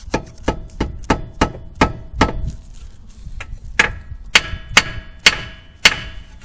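Hammer blows striking a rear lateral link on a Subaru WRX STI VAB to knock it loose, about fourteen sharp metallic strikes in uneven bursts, close and loud with no talking.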